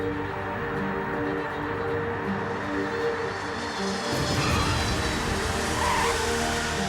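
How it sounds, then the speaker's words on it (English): An Antonov cargo plane lands and brakes on its rear wheels, giving a loud, continuous roar that swells with a broad rumbling surge partway through. "It's time for the Antonov's brakes to do their job."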